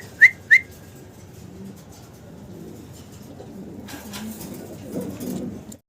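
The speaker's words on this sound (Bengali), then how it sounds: "বড় সরো সাইজের এক জোড়া স্প্যানিশ কবুতর" A pair of large Spanish pigeons gives two sharp whistled calls right at the start. Soft, low cooing and rustling follow at a moderate distance and swell slightly near the end.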